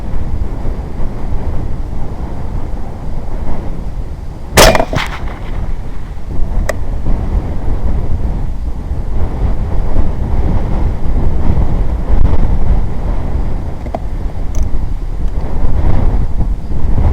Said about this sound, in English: In this case it's a crossing wind. And again it is still quite strong.